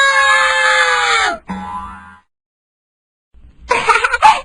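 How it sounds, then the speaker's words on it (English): Children scream in fright in a loud, high-pitched burst that cuts off suddenly, followed by silence and then a renewed flurry of shrieking voices. "The three kids screamed and ran out of the house"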